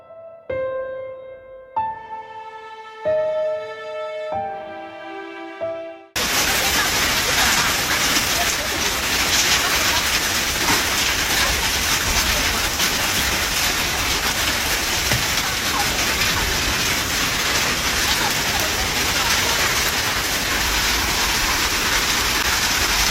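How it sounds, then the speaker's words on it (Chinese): A sudden afternoon hailstorm in Ergun, Inner Mongolia, with stones as large as eggs: after a few seconds of music, a loud, dense, continuous rattling clatter fills the rest of the clip. "8月18号的下午，内蒙古额尔古纳市也突降冰雹。"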